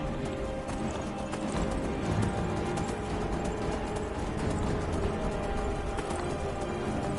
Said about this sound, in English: I'm going to ride over some air here with my horse, who can apparently fly.